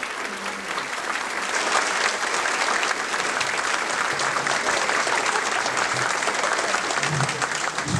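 A large audience at a 90th birthday celebration claps steadily as the governor makes his way to his seat near the front, a dense, even roll of applause that holds at a constant loudness for the whole stretch.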